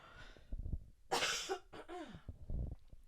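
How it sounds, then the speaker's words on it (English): A person coughs hard a few times, rough and close, with a raspy catch in the throat between bursts. "this cough, it's almost gone"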